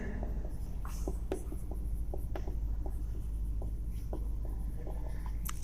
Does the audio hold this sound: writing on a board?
yes